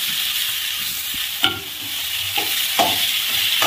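Chopped ivy gourd sautéed in oil under a constant close sizzle, with a spoon scraping and stirring through the pan in a few distinct strokes.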